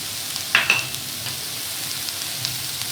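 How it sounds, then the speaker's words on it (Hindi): Spaghetti is stirred in oil in a pan, with a soft steady sizzle and a couple of sharp utensil scrapes or clinks near the start, close and without talk. "इसको थोड़ा सा हमने चलाना है, ताकि ऑयल के साथ अच्छी तरह से मिक्स हो जाए।"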